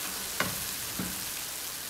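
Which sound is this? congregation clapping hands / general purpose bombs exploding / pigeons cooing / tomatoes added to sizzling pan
tomatoes added to sizzling pan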